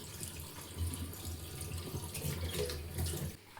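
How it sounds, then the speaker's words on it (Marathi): Tap water runs steadily into a sink, a soft continuous splashing stream up close, with faint shifts as paneer is rinsed under it. "थोडं पाण्याने धुवून घेऊया"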